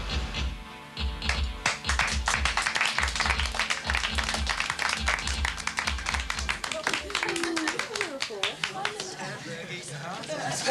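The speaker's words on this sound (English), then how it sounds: "you got a good clap anyway" An audience claps in a burst of sharp, rhythmic applause, loud and close, with voices chattering over it and the clapping thinning out toward the end.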